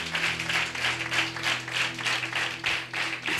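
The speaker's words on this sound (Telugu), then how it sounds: "క్లాప్స్ కొట్టి దేవుని మహిమపరుద్దాం" A church congregation at a New Life Ministries service claps together in a quick, even rhythm. The clapping is moderately loud over a sustained musical drone.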